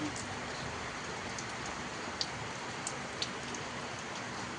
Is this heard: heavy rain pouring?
yes